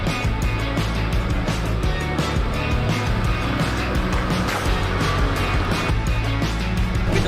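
A four-wheel-drive Nissan Patrol with its locker engaged grinds along an off-road track, a steady loud engine drone with rumbling and tire noise throughout, no talk.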